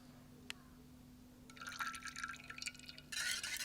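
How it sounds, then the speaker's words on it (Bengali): Eggs and white oil are whisked together in a bowl for an orange sponge cake, giving quiet rapid clinking and sloshing in two bursts after a brief near-silent start, with a single tap before them. "এবার ডিম আর সাদা তেলটাকে খুব ভালো করে কিন্তু ফেটিয়ে নেব"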